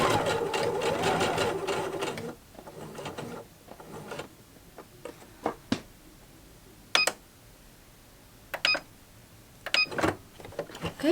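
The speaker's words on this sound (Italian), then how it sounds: "Tanto è una cucitura dritta semplice." A domestic sewing machine runs a simple straight seam through fabric, with a rapid continuous whirring stitch for two seconds, then short stop-start bursts and mechanical clicks and taps as the work is adjusted.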